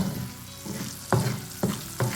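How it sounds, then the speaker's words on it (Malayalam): Salted green chillies dropped into hot oil crackle and sizzle loudly, a steady frying hiss punctuated by three sharp bursts of spattering as they hit the oil. "എണ്ണ തിളച്ച് വന്നപ്പോൾ അച്ചായൻ ഉപ്പ് വരട്ടി വെച്ചിരുന്ന പച്ചമുളക് ഇട്ടേ"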